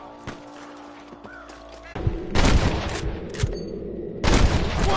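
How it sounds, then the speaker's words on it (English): Gunfire in Red Dead Redemption, a quiet opening with a few faint pops giving way to bursts of dense, rattling shots and heavy thumps, loud and close, in two main volleys. "I can hear more gunshots."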